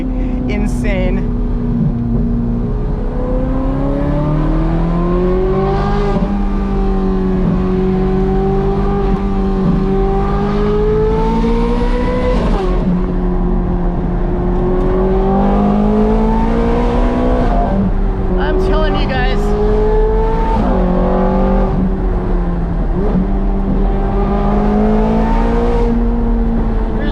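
A Ferrari 430 Scuderia on a canyon road: a loud, raspy exhaust roars up through the revs and crackles on downshifts, steady and close from inside the car, with a voice talking faintly underneath.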